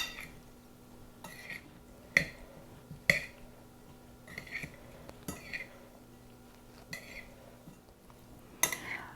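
Pasta salad with Italian dressing seasoning stirred in a bowl: a series of spaced, close scraping strokes with light clinks of a utensil, each burst separated by brief quiet.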